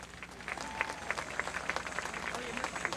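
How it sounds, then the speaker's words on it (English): Applause from an audience at the Folklorama 2008 opening ceremonies, a steady patter of scattered claps with occasional jingling accents, moderately quiet and continuous throughout. "Another round of applause, ladies and gentlemen."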